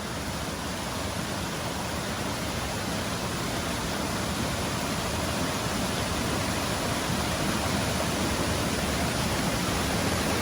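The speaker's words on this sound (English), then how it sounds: "it's not the most impressive waterfall, to be honest" A small two-tier waterfall in a rainforest gorge pours into pools below, a steady broadband rush of falling water with no pauses or voices.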